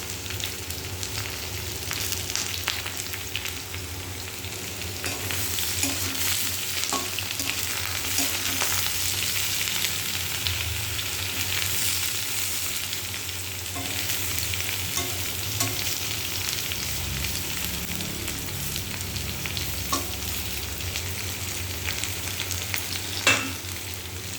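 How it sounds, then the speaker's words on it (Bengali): Eggplant frying in a pan gives a continuous, moderate sizzle for a long stretch, with gentle intermittent stirring scrapes and an occasional light tap. "তুলে দিয়ে বেগুনটাকে একটু নাড়া দিয়ে নেবো"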